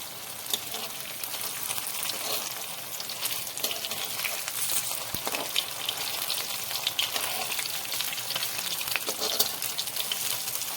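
Onion-flower snack frying in a home pan, a steady dense sizzle throughout with occasional faint stirring scrapes, fairly quiet and with no talking.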